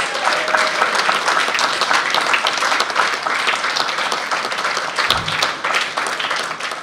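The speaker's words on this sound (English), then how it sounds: "Let's warmly receive her with a round of applause" Sustained applause from a conference audience fills the room for a speaker, dense and steady clapping for several seconds with a brief low thump near the end.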